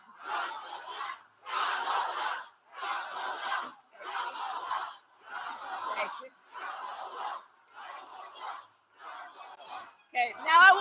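A rally crowd for Kamala Harris chants in steady, evenly spaced shouted bursts, about nine repetitions, loud and massed with short pauses between, ending in a louder swell.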